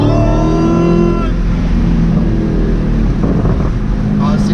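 A loud, deep Dodge Challenger Hellcat exhaust rumbles steadily throughout, rising in pitch briefly at the start, with wind buffeting the microphone.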